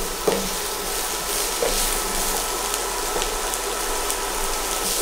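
Vegetables frying in a pan for a vegan Spanish omelette, a continuous close sizzle with a few soft stirring scrapes.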